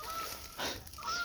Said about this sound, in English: Fucking geese.